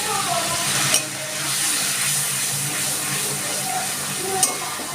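Spice masala with Kashmiri chili powder, coriander powder and a splash of water fries in a pan for a pointed gourd dish, giving a steady close sizzle with a couple of brief clinks from stirring.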